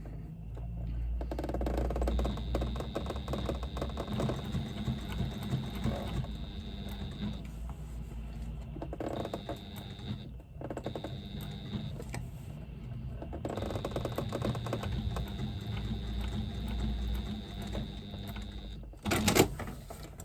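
A sewing machine adds extra top stitching to a fabric twist pouch, a close mechanical hum with a faint whine that starts and stops in several short runs.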